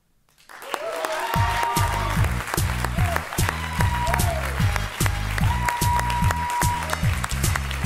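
Loud applause from a crowd at a slam poetry championship final in Le Mans fills the space, steady and sustained over a rhythmic low thumping beat, with a few raised voices mixed in.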